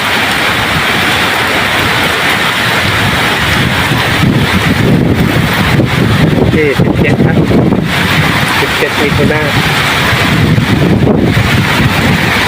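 Strong wind and heavy rain roar steadily and loudly against the microphone, with buffeting gusts throughout and someone speaking briefly under the storm.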